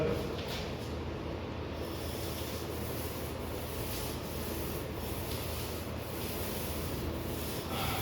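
A paint roller with a 7 mm nap spreads matte latex paint across a primed interior wall in a kitchen-studio, giving a steady, continuous rubbing swish that stays even and close throughout.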